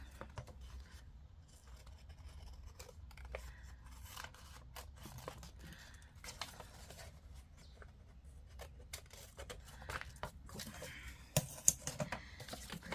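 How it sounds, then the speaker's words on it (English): Scissors snip off excess paper while an envelope house is being folded by hand, producing quiet, close crisp cuts and light paper rustling with no talk. "I'm going to cut off some of this excess"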